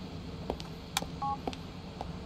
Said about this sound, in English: Brucey gave us a text message.